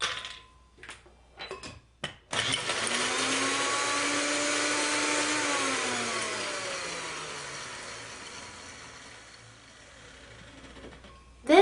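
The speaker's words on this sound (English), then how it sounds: "I'll put the cashews in the blender first and blend them for just a little while." After a few clicks and bumps, a blender motor whirs steadily grinding cashews, its pitch rising then sagging, before stopping with a clunk at the end.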